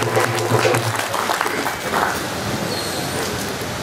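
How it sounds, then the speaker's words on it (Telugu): A crowd at a trade union retirement felicitation applauding Professor Kodandaram, dense, steady clapping filling the hall for several seconds with a voice faintly mixed in at the start. "ప్రొఫెసర్ కోదండరాం సార్ గారికి మరొకసారి గట్టిగా చప్పట్లతో"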